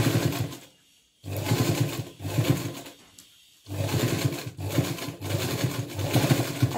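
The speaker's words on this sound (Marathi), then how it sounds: "मी थोडे कापड अस्तरचे कापड घेऊन टीप मारणार आहे।" A sewing machine stitches lining fabric along a kurti neckline in close, loud, steady runs broken by two short pauses, with no voices.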